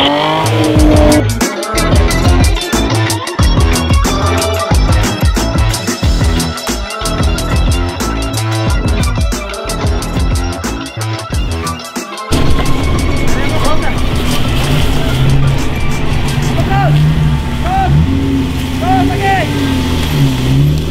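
A Jeep off-road vehicle drives a dirt track with a loud, continuous engine roar that revs and shifts. The sound changes character about halfway through, and voices and crowd noise mix in underneath.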